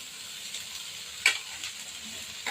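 Okra stir-fries in hot oil with onion and curry leaves in a pan, a soft steady sizzle with a couple of sharper clicks from stirring, no voices.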